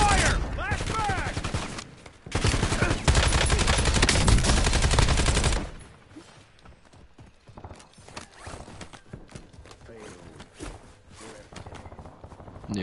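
Gunfire in Warzone, a dense loud burst of rapid automatic shots and sustained fire for several seconds, then quieter scattered distant shots and clatter for the rest.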